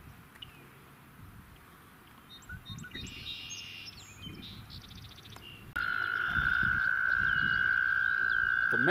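Male American toads call during breeding: a long steady trill starts partway through and continues loudly, with softer bird chirps and outdoor ambience before it.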